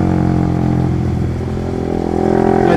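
A Honda CBR motorcycle riding on a road, its engine droning steadily and loudly up close for the whole stretch with a low, even hum and no talk.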